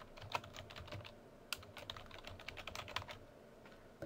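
Quick typing on a computer keyboard, a close, irregular burst of crisp key clicks with a few louder strikes, heard alone in a quiet room.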